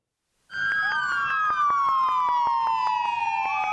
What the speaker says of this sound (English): The LA County Sheriff's Department blaring its sirens Wednesday in honor of 2 fallen heroes.